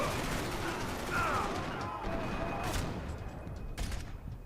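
Gunfire in the shooter game Max Payne 3, a burst of rapid shots with a loud, dense start that thins into scattered bangs, heard close with some game noise.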